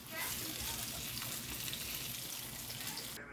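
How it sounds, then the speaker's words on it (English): Onions fry in olive oil until golden brown, a close, continuous crackling sizzle holding steady from start to finish. "put some onions in there and make some grilled onions until they're nice and golden brown"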